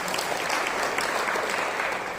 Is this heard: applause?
yes